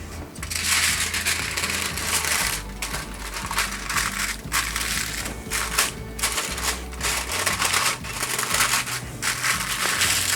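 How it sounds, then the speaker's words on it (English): Tin foil crinkling and crumpling as it is wrapped tightly around a formed donair meat loaf, a loud, continuous, close-up rustle with sharp crackles. "we're simply going to wrap it up quite tightly"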